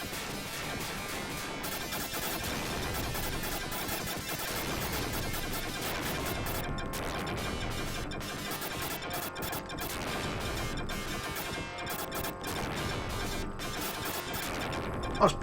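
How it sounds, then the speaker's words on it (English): Dense, continuous crackling explosions and gunfire-like bursts from the SEGA Mega Drive shooter game Fire Shark fill the whole stretch, loud and chaotic with no pauses. "Nice big explosions."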